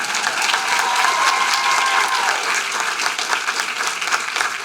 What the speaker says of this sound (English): I think they need a bigger round of applause